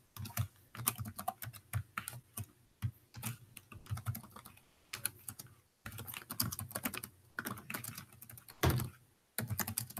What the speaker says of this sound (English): Why are you typing it like that?